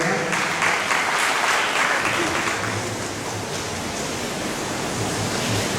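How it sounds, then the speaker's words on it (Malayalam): Sustained applause from a congregation at a Christian retreat in Alappuzha, a dense, even wash of clapping that holds steady at a constant level throughout. "കൈയടിച്ച് കേൾക്കാൻ നന്ദി പറയാം."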